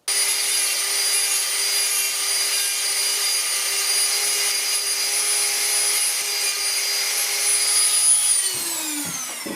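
A small file rasps steadily across an instrument cluster needle to cut a slot, a continuous close scraping that stops near the end with a few light taps.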